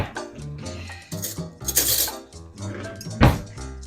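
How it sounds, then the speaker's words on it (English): A spoon clinks and scrapes in a bowl of vegan apple strudel porridge, with a string of close, light metallic taps and knocks against the dish and no talking. "all that's left for me to do now is to grab a spoon"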